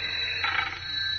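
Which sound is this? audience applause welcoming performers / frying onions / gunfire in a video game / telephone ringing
telephone ringing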